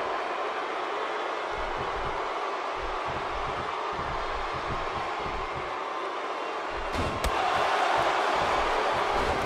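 Dense arena crowd roaring continuously at a televised wrestling match in the WWE 2K16 video game, a steady loud wash of cheering that swells slightly near the end.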